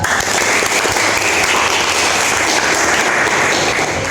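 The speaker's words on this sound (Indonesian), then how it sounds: "Tepuk tangan untuk Kirana dan Ineke." Steady applause from a classroom group, dense clapping that fills the room for several seconds without pause, moderately loud and close.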